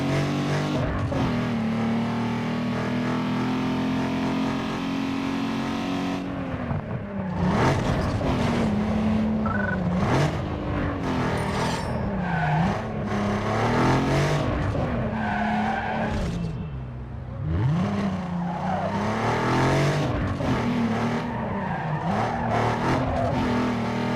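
Toyota Corolla racing in Need for Speed Underground 2, with a loud engine revving up and down through repeated gear shifts, tires squealing and skidding through corners across a sustained run.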